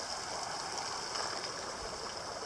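Large river flowing, a continuous loud rushing wash of water heard up close with no pauses.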